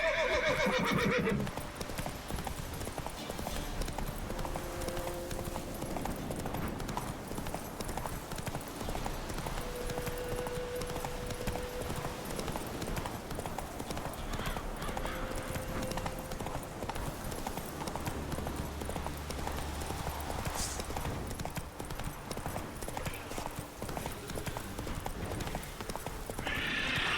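Horse galloping in The Witcher video game, continuous rapid hoofbeat clip-clop with a couple of neighs and whinnies, steady and moderately loud with game ambience, no talk.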